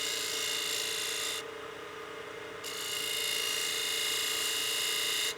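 A skew chisel cuts decorative lines into wood spinning on a lathe, a steady bright scraping hiss that stops briefly and then resumes.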